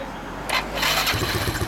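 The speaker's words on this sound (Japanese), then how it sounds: "エンジン聞かせてもらえる？" A 2010 Yamaha Cygnus-X scooter with a one-off custom Belial exhaust starts up, a brief crank followed by a quick rev and a low pulsing idle, close and short.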